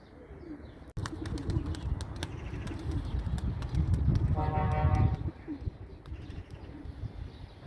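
Tumbler pigeons flying outdoors and landing, with cooing and chirping birds, a few sharp wing claps and a steady rumbling background, all fairly close and continuous.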